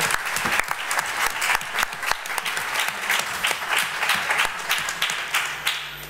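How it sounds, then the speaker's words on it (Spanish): A crowd claps enthusiastically in sustained applause, dense and steady for several seconds, close and fairly loud. "Susana, un aplauso yo creo para esa lectura que abre el acto."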